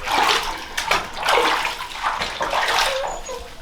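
Water runs and splashes continuously in a bathtub while a puppy is washed, a busy sloshing wash with a faint squeak near the end.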